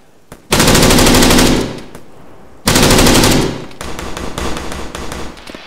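Two long sustained bursts of Arma 3 machine gun fire hammer out close and loud, separated by a short pause, with scattered shots trailing after the second burst.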